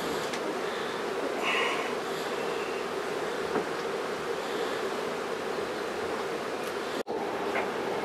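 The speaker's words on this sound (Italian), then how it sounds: "Ascoltare il ruggito. Api sound è un api terapia." Honeybees in a hive give off a dense, steady buzzing hum, continuous and fairly loud, with a brief click near the end.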